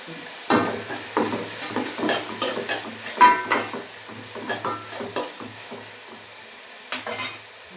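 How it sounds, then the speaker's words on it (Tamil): Tomatoes sautéing for a fish curry, an up-close run of spoon scrapes and clinks against the pan over a soft sizzle, the stirring coming in irregular bursts with no voices. "நல்லா தக்காளி வதங்கட்டும்"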